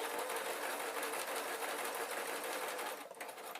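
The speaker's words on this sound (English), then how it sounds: "And I'm going to just reverse stitch over that." A sewing machine stitching fabric for a peg bag, a fast steady whirring buzz running close and continuous before easing off near the end.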